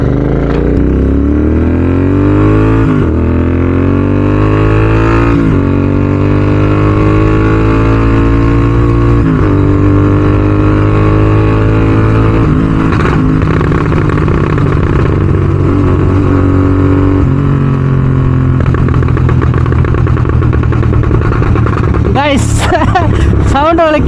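Royal Enfield GT 650 parallel-twin motorcycle with a Code 6 stage 2 aftermarket exhaust, a loud close engine held steady with rising and falling revs throughout, its deep throaty drone continuous and ending with a burst of sharper crackles.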